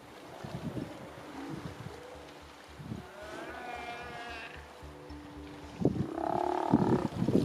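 A sea lion colony on a Patagonian beach in Argentina gives deep, rough barks and drawn-out guttural roars, several calls close by with wind noise between them.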